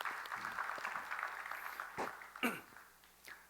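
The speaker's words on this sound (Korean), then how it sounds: "우리 축복의 박수 한번 하겠습니다." Church congregation applauding during a Sunday worship service, soft scattered clapping that thins out, joined by a few coughs and throat clearings, fairly faint and distant.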